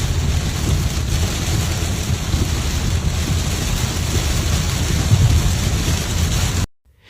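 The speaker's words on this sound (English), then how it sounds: "Storm drains clogged with debris failed to keep pace with the downpour." A dense, steady roar of heavy storm rain pouring down in Holyoke, Massachusetts, loud and continuous, cutting off abruptly at the end.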